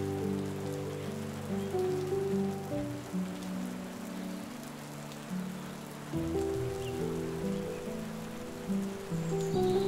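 Rain pours steadily in open country in Germany, a constant close hiss of drops that swells slightly at moments, with nobody talking.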